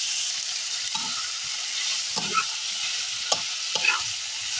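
Fish roe salted and dusted with turmeric is stirred in a hot pan, with a constant frying hiss and several distinct scraping strokes of a utensil against the pan spaced a second or so apart.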